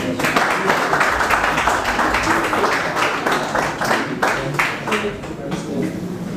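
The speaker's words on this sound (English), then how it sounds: "So a round of applause for him." Audience applause at a grand finale awards show, a steady wash of many hands clapping at moderate loudness with voices mixed in throughout.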